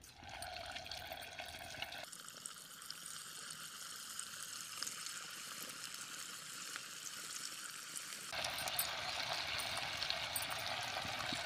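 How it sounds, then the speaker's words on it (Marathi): Veg manchurian balls sizzle in hot oil in a kadhai, a steady hissing fry that stays constant and swells louder toward the end. "आता आपलं तेल छान गरम झालेलं आहे त्याच्यामुळे आपण जास्ती सोडणार आहोत, कढईमध्ये जेवढे बसतील तेवढे सोडणार आहोत।"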